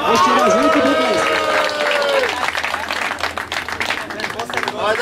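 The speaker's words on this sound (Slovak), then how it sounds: "Ešte raz veľký potlesk." An audience at an award ceremony for a football tournament claps in steady, dense applause that lasts throughout, while someone speaks over it at the start.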